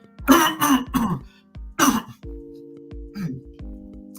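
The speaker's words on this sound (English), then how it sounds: "clear my throat because I got a lot to say." A person clears their throat several times in short, rough bursts, followed by a low hum and one more brief throaty sound.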